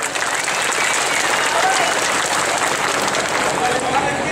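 Loud, dense applause from a crowd at a town festival concert and bullfight in Cuautepec, Guerrero, for dancing couple number 3, sustained and steady throughout with some voices mixed in.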